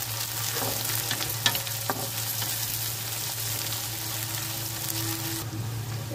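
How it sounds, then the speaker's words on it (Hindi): Finely chopped onions fry in a kadai until brown, giving a constant close sizzle under a low steady hum. A few light clicks of stirring break through. "अब इनमें चार कटी हुई बारीक प्याज डालेंगे। इनमें ब्राउन कलर होने का कढ़ाई अच्छे से करेंगे।"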